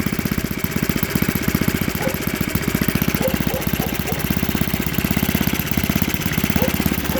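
An OS 91 four-stroke model engine idles on camp fuel through a standard alcohol carburetor, with a pressurized tank and RCEXL ignition, below 2,000 RPM. It makes a loud, close, steady rapid putter that continues throughout.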